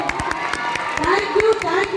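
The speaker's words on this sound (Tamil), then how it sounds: "அதை ரொம்ப அழகா ஆர்கனைஸ் பண்ண அந்த டீமுக்கு ஒரு பெரிய கைத்தட்டல் கொடுத்துடலாம் மக்களே" Steady applause from an event audience for the organizing team, continuous clapping with some crowd noise and a voice talking over it.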